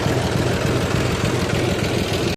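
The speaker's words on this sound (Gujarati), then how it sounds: "આ ટ્રેક્ટર આવ્યું હે આપણું ટ્રેક્ટર આજ ખેપામાં હે ને ધીમ રાખ્યું" A tractor engine turns over slowly on a farm during field work, with a steady, close, low chugging rumble that holds evenly throughout.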